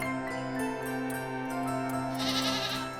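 A farm goat bleats among other goats, heard as a few close bleats over a steady harmonic backing.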